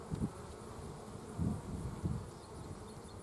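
Honeybees hum around an open hive outdoors, a continuous low buzz with a few louder swells as individual bees pass near.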